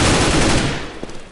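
Rapid, dense gunfire from a competitive shooter video game, a loud continuous burst of overlapping shots that tapers off slightly toward the end.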